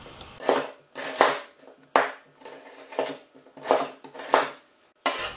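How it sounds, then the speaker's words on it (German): Repeated knife chops through an onion on a cutting board, roughly one sharp stroke every half second, close and fairly loud with no talking. "Zwiebel schneiden, wie du willst."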